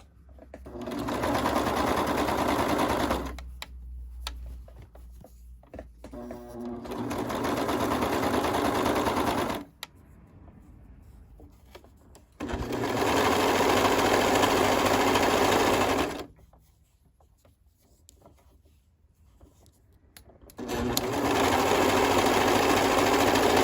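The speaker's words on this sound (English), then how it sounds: "I'm going to go do mine on the serger" A serger overlocks the lower edge of a sewn jogger-set top, running in three long loud bursts of steady motor whir with quiet pauses between them, close and alone with no talk.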